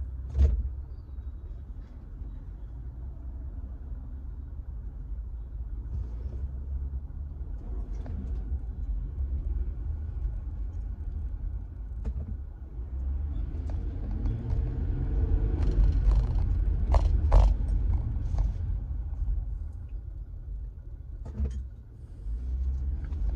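Road traffic passing outside a car: a continuous low rumble of engines and tires that grows heavier toward the middle, with occasional clunks and creaks from inside the vehicle and no talking.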